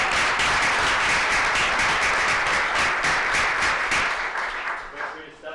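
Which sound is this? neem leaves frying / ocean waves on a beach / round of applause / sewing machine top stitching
round of applause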